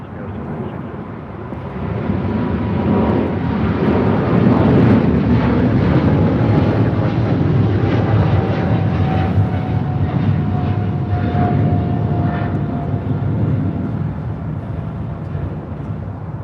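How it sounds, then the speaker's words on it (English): A Qatar Cargo airplane takes off at LAX, its engines building to a broad, sustained roar at a distance that swells and lingers, with a voice speaking over it. "The call sign is Qatari 66 Lima taking off to Liège"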